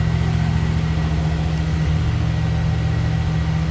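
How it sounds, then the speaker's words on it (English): A 1977 Chevrolet Monte Carlo Landau V8 sits on a steady high idle with the choke on, a loud, even low rumble holding unchanged throughout with no voices. "Choke's on, we're on a high idle."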